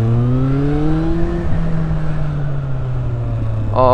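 A vehicle named Beowulf, fitted with a new exhaust, rides out with a loud, close, droning exhaust note that shifts slowly in pitch, then rises into a brief rev at the end.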